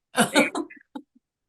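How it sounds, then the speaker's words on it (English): A few short coughs in quick succession, close and fairly loud, followed by a couple of faint throat sounds. "Sorry, I'm coughing and I sneezed halfway through here."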